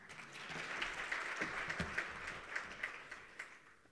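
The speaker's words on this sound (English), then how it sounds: "And that was a poor round of applause for her, by the way." Applause from a conference audience at a national green hydrogen conference in Namibia, a modest, fairly thin round of clapping that holds steadily for several seconds with no voices over it.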